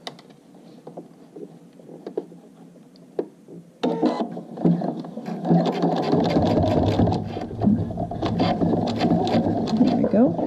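A sewing machine runs a baste stitch along a folded fabric wrist strap, starting after a quiet stretch of light handling and then chattering in a fast steady rhythm, close and fairly loud.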